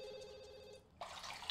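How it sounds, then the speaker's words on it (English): A telephone rings in The Sims 2, a steady electronic trill that holds for under a second and stops, followed by a splashy, hissy wash of bathtub water sounds at moderate level. "I'm just gonna have you answer the phone."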